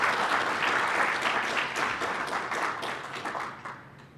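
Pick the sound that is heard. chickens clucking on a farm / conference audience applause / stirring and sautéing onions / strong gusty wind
conference audience applause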